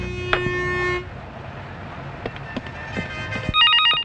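A telephone rings in short electronic tone bursts, near and clear, with other brief sounds between the rings.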